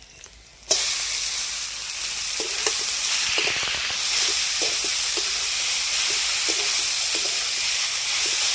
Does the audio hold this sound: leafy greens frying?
yes